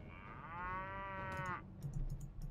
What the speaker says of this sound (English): I do have that herd of cattle as long as it continues to follow me.